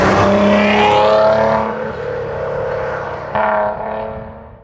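A Maserati Ghibli S Q4 revs loudly up close, its exhaust roaring up and falling back. A second sharp rev surges near the end.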